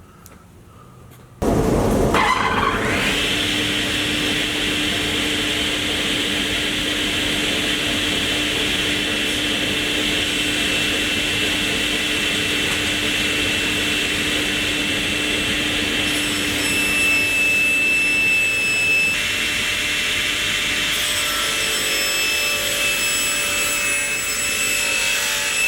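Machine saw cutting a wood scarf joint, a steady loud whine with a rubbing, rasping edge that starts abruptly after a brief quiet moment and runs continuously throughout.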